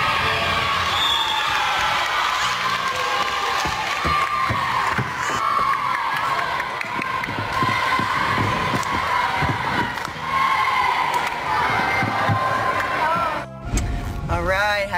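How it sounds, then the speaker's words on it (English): Children and adults cheer and shout at a youth sports game, a dense, steady crowd roar with whoops and calls running throughout, close and loud, with voices mixed in. "Okay, Ava's cheering."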